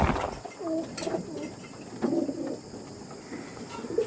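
Pure Chennai breed pigeons coo in low, throaty, repeated calls, close by and moderately loud over a steady background hum, with no talking.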